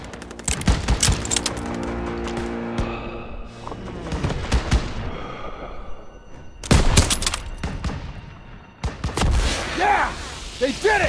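Dense World War II gunfire fills the battle scene in the Call of Duty WW2 video game, with rapid volleys, machine-gun bursts and sharp single shots layered throughout, while soldiers shout over the fighting.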